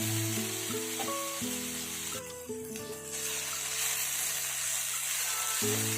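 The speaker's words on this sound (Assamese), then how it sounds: "ভালকৈ আৰু লাৰি পেলাই 2 মিনিটমান এনেকৈ মই ভাজি লৈছোঁ" Pumpkin greens with sugar frying in a pan give a steady hiss of sizzling oil, close and even throughout, with a few faint stirring scrapes and a sustained background tone but no speech.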